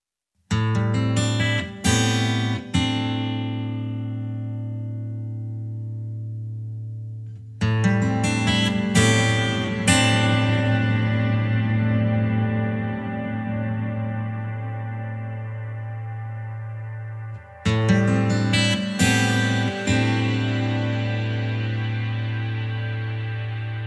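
Three bursts of plucked notes ring out through a Mercury7 reverb, each trailing into a long, smooth reverberant tail that slowly fades, over a steady low hum.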